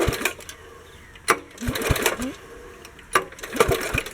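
Wheel Horse 704 garden tractor engine cranking over in short, irregular bursts to pump fuel, with mechanical clatter and pauses between attempts, fairly quiet and close.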